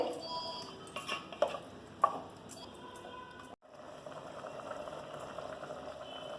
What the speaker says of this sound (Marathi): चांगली रटरट उकळलेली आहे